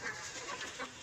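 Domestic hen clucking in a village farm shed where goats are kept, a few short nasal clucks close by over steady outdoor background noise, no talking.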